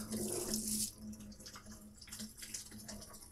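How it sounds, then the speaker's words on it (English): Water pours and splashes into the metal cooking chamber of an Old Country Brazos offset smoker to rinse it, a close, rushing flow that comes in uneven surges. "now I just want to pour a little bit of this water in here just to rinse it out a little bit"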